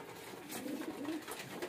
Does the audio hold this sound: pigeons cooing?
yes